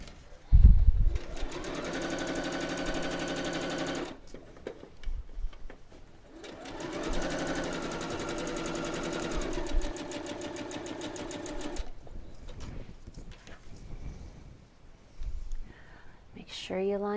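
A sewing machine stitches quilt block pieces together for a double disappearing nine patch block in two steady whirring runs of a few seconds each, with someone talking over and between them.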